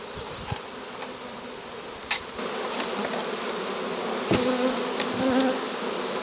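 Honeybees hum and buzz steadily around an open beehive during a spring inspection, a dense close swarm drone with individual bees flying past and a few louder buzzes near the hive.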